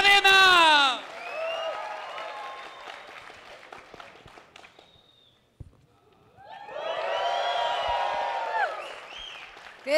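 At a Guadalajara comedy show, a crowd cheers and applauds as a young woman performer is welcomed to the stage. Loud whoops open the clip, a quieter stretch follows, and a second rising burst of cheering comes later.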